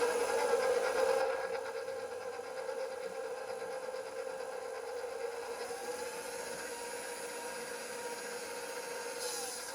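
Dry flour and sugar for a pie crust are stirred together in a bowl, giving a steady soft rubbing and scraping that carries on throughout at a moderate, even level with no talk.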